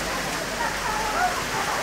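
Heavy rain pours down during a sudden storm with strong winds in Datia, Madhya Pradesh, a dense steady hiss close by, with a voice speaking over it.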